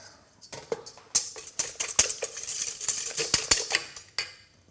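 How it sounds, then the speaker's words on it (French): Stirring sugar mixture in a bowl set over a bain-marie, close metallic scraping and clinks of a utensil against the bowl, irregular strokes repeating quickly for a few seconds before easing off. "Tout en remuant régulièrement."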